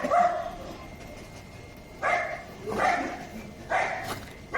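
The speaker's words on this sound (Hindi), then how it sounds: "बावला सा भौंका जा रहा है, भौंके जा रहा है" A neighbourhood dog near a house barks repeatedly, four sharp, moderately distant barks spaced a second or so apart.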